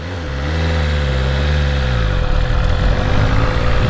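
A 2022 BMW S1000RR M Sport motorcycle engine revs up loudly and close by, its pitch climbing and dipping as it pulls away, then settles into a rough, steady roar with no voices.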